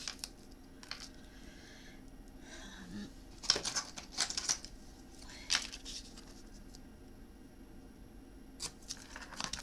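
Tape pulled and pressed across folded paper for a rose garden memory book, with intermittent crinkles, rips and taps over a quiet room.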